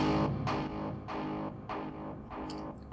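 Repeated impact hits processed through Trash 2 distortion, giving a gritty guitar-amplifier texture; about six loud, saturated thumps land at a steady rhythm, each followed by a buzzing distorted tail, with no voices.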